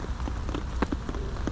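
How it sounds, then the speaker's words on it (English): Heavy rain pours down outdoors at a fishing spot, a dense, constant patter of drops hitting nearby surfaces, loud and close with no talking. "the rain's terrible, so apologies if you can barely hear me"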